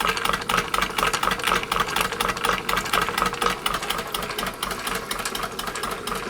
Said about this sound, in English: It's a pretty large engine.